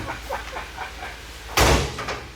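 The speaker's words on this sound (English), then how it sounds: "There's no weight left in it, so the door just opens." An old abandoned classic Porsche 911 has its door pulled open, a single loud creaking, scraping clunk that stands out after a stretch of faint movement and rustling.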